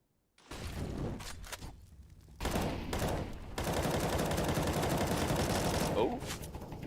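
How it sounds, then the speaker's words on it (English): Video game gunfire shot through a wall during a competitive match, a flurry of sharp shots and bursts over clattering in-game action, with a commentator's voice running underneath. "Oh, a wall bang."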